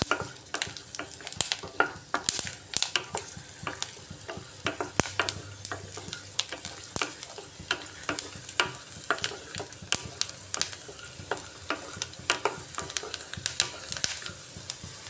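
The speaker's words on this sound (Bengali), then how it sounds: "একটু মুচমুচে করে ভেজে নিচ্ছি" Whole peanuts crisping in mustard oil in a wok: a continuous close sizzle with frequent sharp stirring scrapes in an uneven rhythm, and no one talking.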